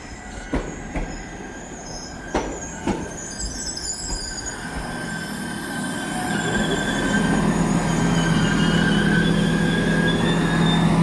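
A train runs on rails arriving at Llanfairpwll station, with sharp clicks of wheels over rail joints early on, then a rising, steady rumble with wheel squeal and high ringing tones as it rolls in.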